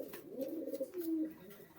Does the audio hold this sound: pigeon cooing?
yes